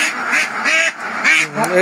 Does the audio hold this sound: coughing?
no